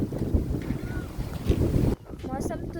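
Strong storm wind gusting and roaring across the microphone outside a shop as a storm sets in after sunshine, loud and turbulent for about two seconds before dropping to a quieter, calmer background.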